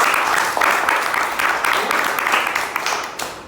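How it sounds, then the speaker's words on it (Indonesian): An audience at a church talk on God claps in sustained, dense applause with uneven surges, filling the room at close range throughout. "Boleh tepuk tangan?"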